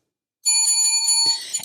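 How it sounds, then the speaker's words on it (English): A podcast host rings a hand bell once, giving a bright, sustained metallic ring that cuts in from silence, followed by faint handling knocks. "When I ring this bell, that means we've hit 30 minutes."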